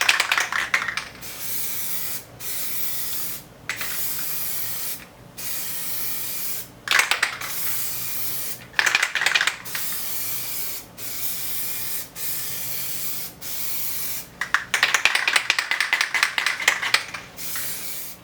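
Plasti Dip is sprayed from an aerosol can onto a guitar body, aimed into the corners by the pickups. Close, loud hissing bursts of varying length are separated by short silences.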